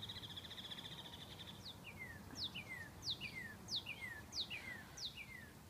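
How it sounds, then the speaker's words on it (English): A woodpecker calls near a river, a sharp descending call repeated about six times in a steady rhythm, clear and fairly close against a low background rumble. "That was a woodpecker, guys."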